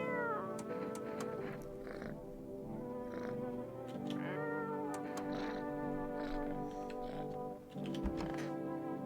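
A cat in the video game No I'm Not A Human meows repeatedly in drawn-out, wavering calls with purring between them, close and fairly loud. A soft tapping runs underneath, and nobody speaks.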